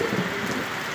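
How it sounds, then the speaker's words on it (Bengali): Heavy rain pours down in a brief, dense, steady patter of close drops striking surfaces, with no voices present. "আকাশে কত সুন্দর গুরুম গুরুম শব্দ হচ্ছে। এবং মুসুল দরে বৃষ্টিটা হচ্ছে"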